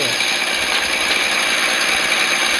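A truck engine in the Driver Jobs video game runs with a steady loud rattling drone and exhaust, a dense continuous hum without clear separate pops.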